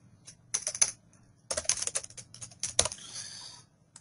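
Typing on a computer keyboard comes in quick bursts of close, crisp key clicks with short pauses between runs, ending in a longer flurry, with no talking.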